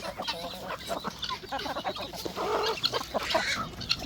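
American ducks crowd around feed on a poultry farm, giving a busy chorus of honks and quacks close by, with a person's voice briefly among them.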